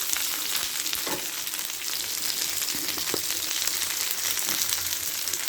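Cut drumstick pieces frying in a pan of hot oil, a dense steady sizzle with occasional scraping knocks from a spoon stirring them, fairly quiet and close with no voices.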